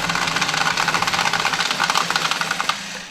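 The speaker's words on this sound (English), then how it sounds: "We're going to press down on the old card shuffler one more time." A close, loud motorized whir from an electric card shuffler with a rapid clattering riffle of cards, steady for nearly three seconds before cutting off sharply; no speech over it.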